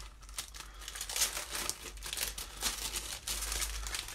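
Cardstock pressed through a Subtles Dynamic Textured Impressions embossing folder in a Big Shot die-cutting machine, heard as faint, close crinkling and crunching with irregular bursts, no talking.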